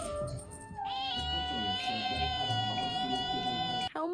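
A house cat meowing up close, one long drawn-out loud meow that holds steady for about three seconds after a softer start, with no talk.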